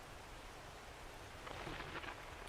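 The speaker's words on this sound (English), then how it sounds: "It is raining big time." Rain falls in 7 Days to Die, a soft, steady patter and hiss of drops on surfaces, faint and even, swelling slightly toward the end with no voices.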